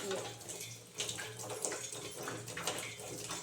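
Running water pours and splashes steadily while an aquarium tank motor is rinsed clean, with faint talking underneath.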